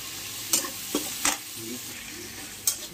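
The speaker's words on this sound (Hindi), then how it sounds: "मैंने थोड़ा सा टमाटर ऐड कर दिया है, इसे फ्राई हो जाए" Tomato fries with onion and masala in a pan for a jackfruit curry, a soft constant sizzle broken by four sharp spoon-stirring clacks.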